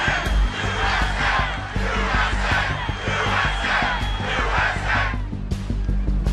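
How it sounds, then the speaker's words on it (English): A large crowd at a Trump rally chants and yells continuously, the massed voices dense and loud over a low rumble, sustained without a break. "The crowd starts to chant."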